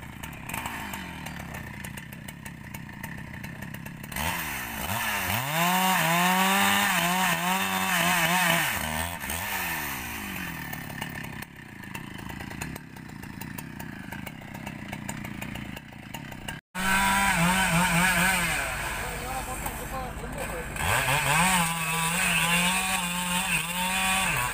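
A Husqvarna 395 chainsaw cutting rubber wood, its engine loud and close, revving up and bogging down through repeated cuts with a brief break mid-way.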